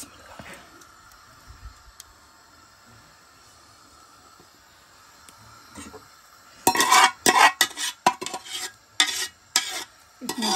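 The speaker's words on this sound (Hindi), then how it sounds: "अब इसके ऊपर चिकन डालेंगे, अब ये मसाला सारा इसके अंदर पलटा देंगे" Chicken and masala tipped into a biryani pot, heard as a burst of scraping, clattering and stirring after several seconds of quiet kitchen background, with loud intermittent knocks and shuffles toward the end.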